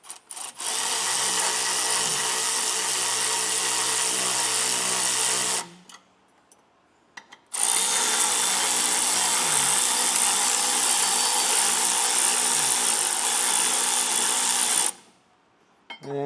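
A power tool with a socket tightens bolts while Air Lift LoadLifter 5000 air helper springs are fitted. It gives two long, steady whirring runs with a brief pause between them and a quick stop at the end.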